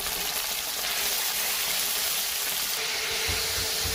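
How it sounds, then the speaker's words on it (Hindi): Chicken and garlic fry in hot oil in a wok, making a continuous, even hiss and sizzle close by with no talking. "चिकन को हम 1-2 मिनट के लिए भून देंगे।"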